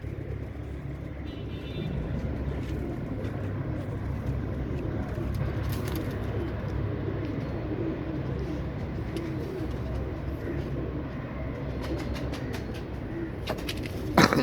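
Royal Teddy pigeons coo in a loft, a dense low murmur of overlapping calls, with a steady rumble of passing road traffic underneath and a few sharp clatters toward the end.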